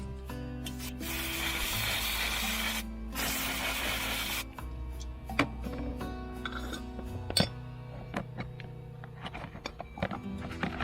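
Good old brake cleaner hisses in two steady aerosol bursts onto a dirty, greasy Blakes seacock, followed by faint metallic clinks and rubbing as the fitting is handled up close.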